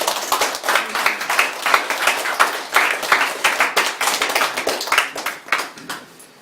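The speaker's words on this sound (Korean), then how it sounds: "그분들 위해서 박수로 한번" Church congregation applauding during a Sunday service, a moderately sized group clapping in distinct, uneven bursts with audible individual hand claps, steady for several seconds before tapering off.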